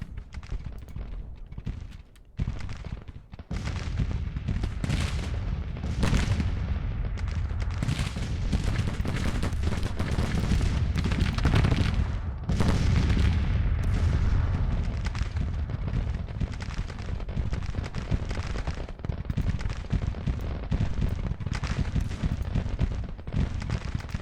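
3-inch cannon artillery in a Civil War battle in Grand Tactician, booming fire blending into a dense, continuous rumble of distant guns and musketry that barely lets up.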